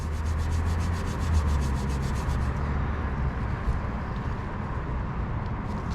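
Chrome exhaust tip scrubbed with steel wool to lift black soot, a dense continuous rubbing and scouring that stays close and steady for the whole stretch, easing slightly partway through.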